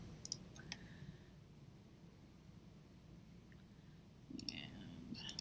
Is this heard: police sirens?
no